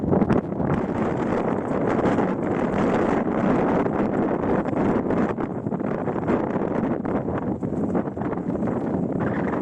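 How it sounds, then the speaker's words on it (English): Strong gale-force wind buffets the microphone on an exposed spot in the Scottish Highlands, a loud continuous roar and rumble that fills the whole stretch without a break. "it's blowing a gale up here"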